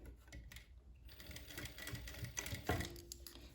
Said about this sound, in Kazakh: Енді осылай тартып отырып, тігіп шығамын.